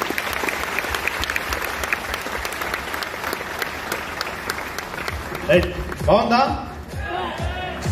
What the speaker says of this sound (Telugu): సో ఒకసారి బిగ్ క్లాప్స్ అండి మేడం కోసం కూడా అందరూ.